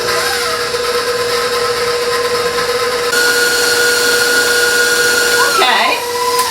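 Electric hand mixer beating red velvet cake batter, a loud continuous whirring motor that shifts pitch partway through and briefly scrapes near the end.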